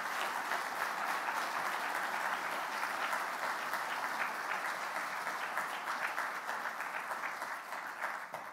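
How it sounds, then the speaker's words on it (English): An annual meeting audience applauds the Proceedings Author of the Year, a sustained, even roar of many hands clapping at moderate volume, tapering off in the final second. "Ladies and gentlemen, a round of applause, please, for the 2021 Proceedings Author of the Year"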